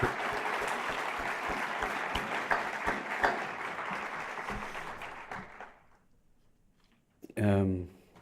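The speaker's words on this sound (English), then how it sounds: "just a round of applause for all of our panel" An audience at a faculty panel question-and-answer forum applauds the panel, steady clapping for about five seconds that then fades out, followed by a brief burst of speech near the end.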